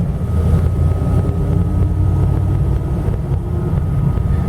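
1977 Dodge Ramcharger SE 4WD with a 440 engine rolling slowly in third gear, low range, two-wheel drive; a loud, steady low rumble with wind buffeting throughout and no talk.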